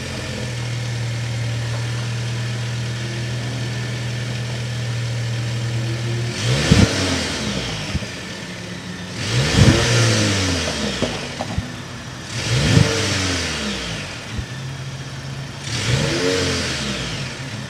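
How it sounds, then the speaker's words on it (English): A 2023 Volvo XC40 B4 engine idles steadily, then revs hard four times in a row, each burst rising and falling with a throaty exhaust note close by. "start it up so you can hear that B4 exhaust now"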